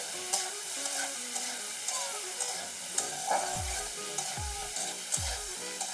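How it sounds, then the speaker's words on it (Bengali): Salt and turmeric are stirred into potatoes and tomatoes frying in a pan for a Bengali tangra fish curry with bitter gourd, a low steady sizzle broken by soft spoon scrapes and a few deeper thumps. "হাফ চামচ হলুদ গুঁড়ো দিয়ে একটু ভালো করে নেড়ে নিচ্ছি"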